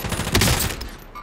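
Gunfire from an online shooter video game: a short, loud, close burst of rapid shots swells and then fades within about a second.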